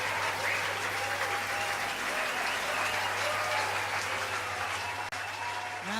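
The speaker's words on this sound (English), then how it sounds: "Give them a big round of applause." A banquet crowd at the 2016 SFWA Nebula Awards in the Palmer House ballroom keeps up sustained, even applause for a performing group, a thick continuous patter of many hands with a brief dip near the end.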